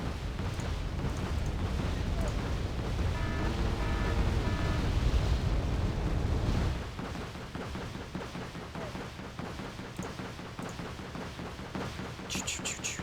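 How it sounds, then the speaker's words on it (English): Missiles streak overhead and slam home in a Wargame: Red Dragon battle, a dense rolling barrage of blasts and roaring impacts that stays loud throughout, with tonal game effects layered in and a brief high chime near the end. "Missiles are still flying."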